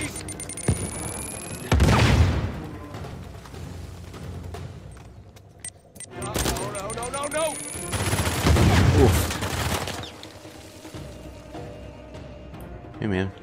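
Grenade explosions and bursts of gunfire from the video game Uncharted 4, with a loud blast early and another heavy burst later amid rattling shots, under a player's talking.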